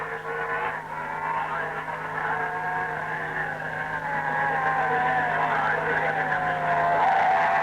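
A 499cc Norton racing motorcycle runs at the Longford circuit in 1964, its engine a continuous rising and falling whine heard under a narrator's voice with a muffled, old-recording quality.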